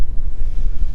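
Blustery wind buffets the microphone on Lower White Tor in stormy weather, a loud, deep rumbling roar with fluctuating gusts filling the whole second, with no voice over it.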